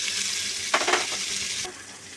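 Chopped onion and garlic hit hot oil in a pan of frying vegetables, raising a bright close sizzle that swells for about a second and then settles into a steady hiss.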